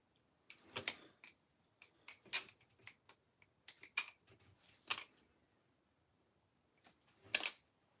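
Left-handed flipping of a balisong butterfly knife, giving sharp metallic clicks and clacks in irregular bursts with quiet gaps, close and moderately loud, no talking.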